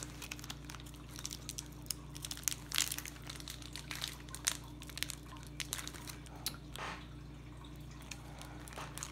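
Crinkly plastic wrapper of a trading card pack being crushed and pulled at, with scattered sharp crackles over a steady low hum, close by and fairly quiet.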